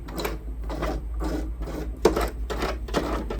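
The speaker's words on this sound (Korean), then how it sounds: "몇 번 돌려가면서 수동으로 재봉을 해주시고요." A Brother sewing machine stitches fabric as its hand wheel is turned manually, producing a series of about eight distinct rhythmic mechanical thumps and clatters, close up and clear with no talking.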